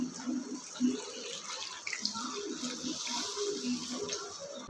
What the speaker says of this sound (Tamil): இப்போ இந்த ரசத்துக்கு தேவையான அளவு தண்ணி ஊற்றிக்கலாம்